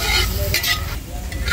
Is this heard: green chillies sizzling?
yes